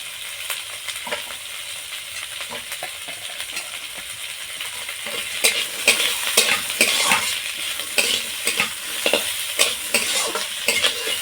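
Chopped capsicum, carrot and spring onion are stirred and fried in a pan, a close steady sizzle with repeated scraping and clinking spatula strokes growing busier partway through, no talking.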